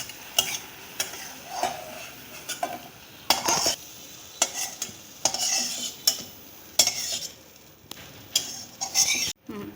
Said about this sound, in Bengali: এবারে আমার ক্যাপসিকামগুলো আমি ভেজে নেব